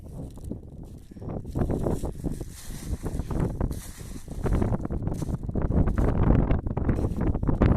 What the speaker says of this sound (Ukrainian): Почався трішки вітер.